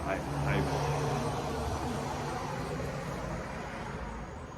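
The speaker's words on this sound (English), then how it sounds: "I'm pretty sure that car was pretty loud" A car roars loudly past nearby, its engine noise filling the scene and slowly easing off, with a voice talking underneath.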